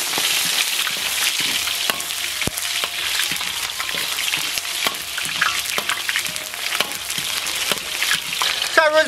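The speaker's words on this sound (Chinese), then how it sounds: "冰糖炒到短小泡，下葱姜蒜爆香" Scallion, ginger and garlic hit hot caramelized rock sugar in a wok and sizzle loudly, with repeated scraping strokes of a spatula stirring them through the steady frying crackle.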